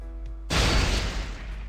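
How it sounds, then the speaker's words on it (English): In the Persona 4 Arena video game, a small explosion bursts open heavy metal restraints, a sudden loud crash that follows a faint tone and then spreads into a broad rumbling roar that slowly fades. "a rupturing sound like a small explosion shakes the entire room"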